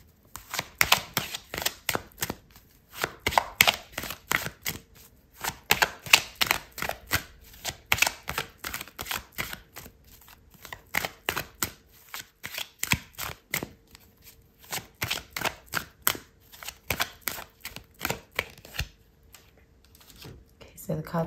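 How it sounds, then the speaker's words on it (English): Tarot cards being shuffled and handled in rapid, dense flicking bursts, close and crisp, continuing steadily with brief pauses. "I'm going to pull out another card for you"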